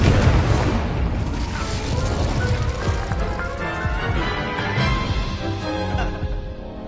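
A fiery Incendio spell blast in the Hogwarts Legacy video game, a loud, dense booming roar with crackling bursts that runs continuously through the whole stretch amid game effects.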